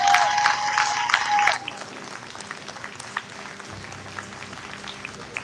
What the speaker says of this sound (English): Ladies and gentlemen, big round of applause, Justin Sheffield.